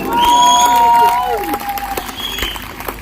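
An audience claps and cheers at a live stage performance of Malayalam folk songs, loud and dense at first and then thinning to a scattered patter with crowd voices mixed in.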